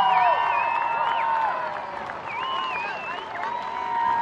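An outdoor crowd at a St. Louis fireworks show claps and cheers for parachute jumpers, a steady wash of applause with whistles and shouts, fairly near, through most of the stretch.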